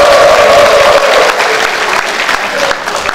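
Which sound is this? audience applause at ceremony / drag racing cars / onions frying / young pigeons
audience applause at ceremony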